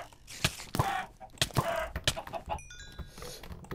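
Chicken clucking in the Hack/Mine mod of a video game, a few short clucks and squawks mixed with game thuds and small effect sounds, fairly close and clear.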